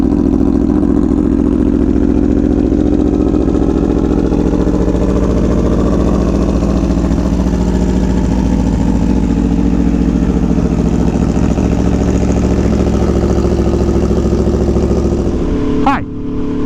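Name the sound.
riding a 2017 Aprilia Tuono V4 1100 Factory motorcycle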